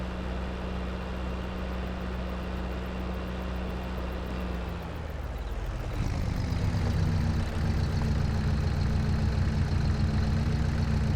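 A tractor engine in a farm simulator idles steadily with a low drone, then revs up midway to a louder, rougher working pitch that holds to the end, with no voices.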